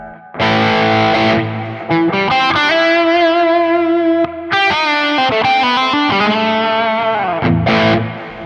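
A loud electric guitar through an 808 overdrive on a Quad Cortex, with a warm, thick, mid-heavy overdriven tone, plays sustained chords and short riffs, ringing with a touch of reverb.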